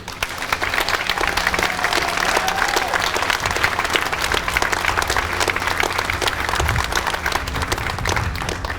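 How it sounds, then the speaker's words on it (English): Audience applause at a school building grand opening and ribbon cutting, a steady, dense crowd clapping that holds at full strength throughout, close and loud with no voices over it. "Round of applause to these groups"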